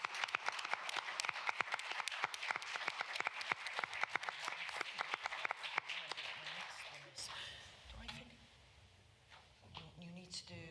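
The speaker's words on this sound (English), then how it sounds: "So a round of applause for Rachel." Meeting attendees at an AGM applaud a presenter, crisp close claps for about seven seconds that then stop, followed by quiet talking and some shuffling.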